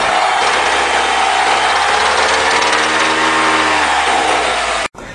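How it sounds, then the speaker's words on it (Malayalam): A car engine with a knocking fault runs loud and close at a steady idle, a continuous rough drone that cuts off abruptly near the end. "നിങ്ങളിപ്പോൾ കേട്ട വോയിസ് ക്ലിപ്പാണ് ഒരു എഞ്ചിൻ നോക്കിങ്ങിൻ്റെ സൗണ്ട്"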